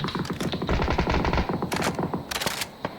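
Rapid automatic gunfire from a Tommy gun and Dragunov in the PUBG video game rattles in loud, dense bursts with sharp individual shots toward the end.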